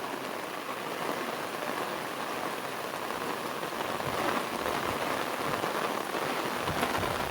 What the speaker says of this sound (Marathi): पाऊस पण भरपूर आलाय, दाखवू तुम्हाला